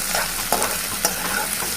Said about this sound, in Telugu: ఆనియన్, పచ్చిమిర్చి కూడా వేసేసింది.